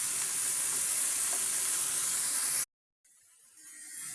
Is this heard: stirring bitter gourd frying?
yes